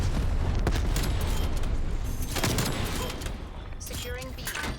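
Gunfire and grenade explosions from a Call of Duty match, sniper rifle in play: a dense, loud barrage of shots and booms, fairly continuous for most of the stretch and thinning slightly toward the end, with a voice talking over part of it.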